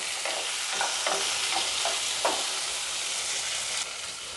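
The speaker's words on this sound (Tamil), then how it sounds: "இதில் வெங்காயம், தக்காளி, தேங்காய்," Onion, tomato, coconut and garlic stir-fry in hot oil for a stuffed brinjal kulambu: a constant loud sizzle runs throughout, with soft, regular scraping strokes from stirring.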